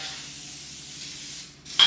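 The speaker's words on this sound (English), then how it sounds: "Grease in the pan with coconut oil spray." A steady hiss of aerosol coconut oil cooking spray greasing a pan, lasting over a second, close by, ending with a brief clatter.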